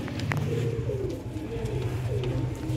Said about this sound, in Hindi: लाजवाब कबूतर